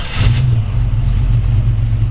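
The engine of a 1932 Ford Model 18 roadster high-boy hot rod catches and runs. It gives a loud, close, rumbling idle with a short rev at the start and then keeps a steady throb.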